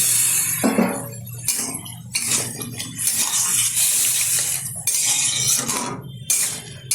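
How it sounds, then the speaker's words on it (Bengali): Water being poured into a pot of prawn curry in a home kitchen, a steady splashing, trickling wash with clinks of a metal pot and utensils, close and fairly loud, no talk. "দিয়ে দিচ্ছি খুব অল্প পরিমাণে জল।"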